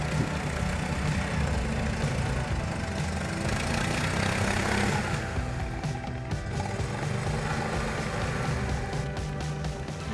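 A steady, continuous engine drone from the Tourist tracked ATV runs at an even level for the whole stretch, with no voices over it.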